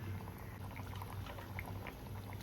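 Ghee trickles into a simmering paneer curry, a faint bubbling, liquid pour with soft, low gurgles close by and no voices.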